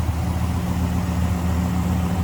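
A 1957 Pontiac Star Chief Catalina idles close by with a smooth, steady low hum and an even rumble that holds without change.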